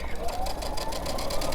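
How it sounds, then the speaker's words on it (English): A sewing machine stitching fabric for a children's pajama set at high speed, running as a rapid continuous whir close by. "I'm sewing a little fast there."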